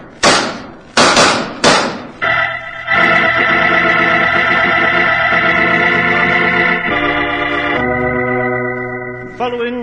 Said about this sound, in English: Following that exchange of shots, Roger Prescott died